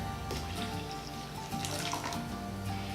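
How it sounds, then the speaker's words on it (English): Apple cider vinegar poured into homemade barbecue sauce mixed with molasses, a steady close liquid splashing and trickling sound that runs without a break and carries no speech. "we're going to add our apple cider vinegar"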